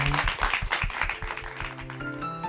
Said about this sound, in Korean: 다시 한번 큰 박수 부탁드릴게요